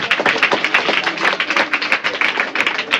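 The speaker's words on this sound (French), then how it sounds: "je vous demande d'applaudir très fort" Steady, dense audience applause at a televised quiz final, many hands clapping loudly and evenly throughout with no pause.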